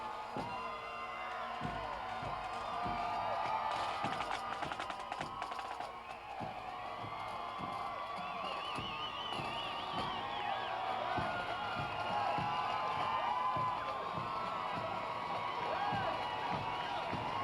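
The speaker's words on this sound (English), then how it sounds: "Here they come, the crowd's cheering." A large outdoor crowd cheers and shouts continuously at the 1992 Toronto Blue Jays World Series parade, with scattered whoops and claps forming a steady, loud roar throughout.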